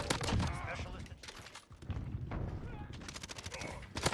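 Pistol shots in the Modern Warfare (2019) video game, a few sharp bursts of gunfire scattered across the moment, mixed with game noise and a player talking over the action.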